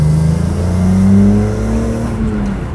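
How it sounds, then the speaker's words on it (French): A car engine passes outside an open window, a steady mid-pitched drone that swells and slowly shifts pitch as it goes by, continuous for a few seconds with no talk over it. "le doux moteur qu'on va peut-être entendre"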